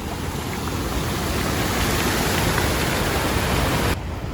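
An urban waterfall pouring hard, a loud, dense, continuous roar of rushing water close by that cuts off abruptly just before the end.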